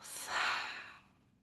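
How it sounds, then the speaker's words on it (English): A single long, soft breath exhaled out through the mouth during a guided breathing practice, rising then fading away over about a second, close and quiet. "Exhale out the mouth"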